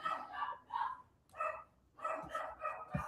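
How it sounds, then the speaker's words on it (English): A dog barks in several bursts, spaced apart across a few seconds, heard somewhat distant and indoors with no talk over it. "You guys can't hear my dog barking, can y'all?"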